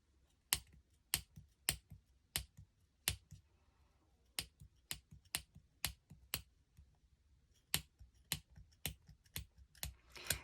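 Scissors snipping through yarn while trimming a pom pom, with sharp, crisp cuts coming one after another in an uneven rhythm, close and clear with nothing else around them.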